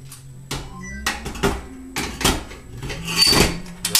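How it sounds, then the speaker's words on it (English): A metal fuel tank on a Perfection kerosene heater being set down into place, producing a series of hollow clanks, knocks and scrapes, close and fairly loud, with brief bursts of rattling. "Drop your tank in place."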